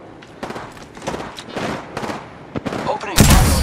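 Gunfire in the video game Apex Legends, bursts of rapid shots in short clusters growing denser, ending in a loud sustained blast of noise, close and harsh.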